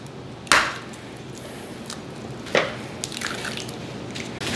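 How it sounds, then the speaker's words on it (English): Two whole eggs cracked by hand into a bowl for homemade doughnut batter, heard as two sharp, close shell cracks about two seconds apart, each followed by a soft wet drop. "You wanna crack 2 whole eggs into a completely separate bowl."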